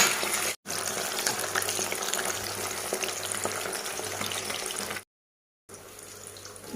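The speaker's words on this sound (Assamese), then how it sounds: "মাছ ফ্ৰাই হৈ আছে" Fish pieces rubbed with turmeric and salt frying in hot oil, a dense, even crackling sizzle heard close up, cut by two short silent gaps.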